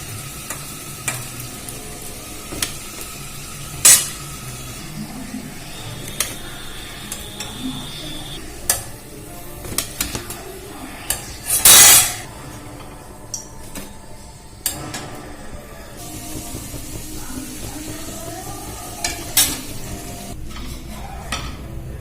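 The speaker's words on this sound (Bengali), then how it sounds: "আমার সমস্ত স্ন্যাক্সগুলো ভাজা হয়ে গেছে" Egg and potato tea-time snacks fry in hot oil with a continuous crackling sizzle. Scattered sharp clinks and scrapes come from utensils stirring against the pan. Nobody speaks.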